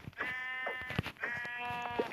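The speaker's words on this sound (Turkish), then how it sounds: "Orada bir tane daha koyun var." Two drawn-out sheep bleats close by, one after another, with short gaps, heard alone without talk.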